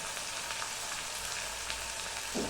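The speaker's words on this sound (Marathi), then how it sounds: "आता हे तेलामध्ये मी चांगलं फ्राय करून घेते." Red chili powder, salt, garam masala and turmeric frying in hot oil for masala rice, a steady close sizzle with faint stirring and one soft clunk near the end.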